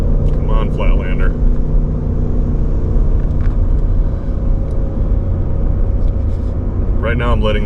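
Ford pickup truck cruising on a Kansas highway, a steady engine and road rumble droning throughout with automatic gear changes blended into the hum, and someone talking over it at the start and end.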